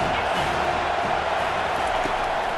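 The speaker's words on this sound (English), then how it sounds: "Man, this crowd really affecting the football game." Dense crowd roar fills a football stadium during Oregon vs Penn State, a loud, unbroken wash of home-crowd noise with no distinct pauses.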